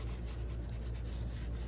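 Knife tang being rubbed clean with alcohol in a knife-making shop, a faint, steady rasping scrub with quick repeated strokes and no voices.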